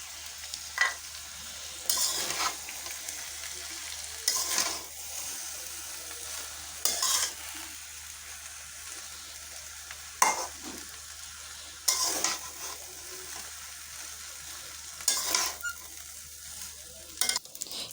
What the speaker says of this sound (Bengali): সম্পূর্ণ ভাতটা দিয়ে দিয়েছি, এখন ভালো করে মিশিয়ে নেব।